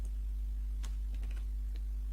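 Faint computer keyboard typing, a few sparse key clicks over a steady low electrical hum.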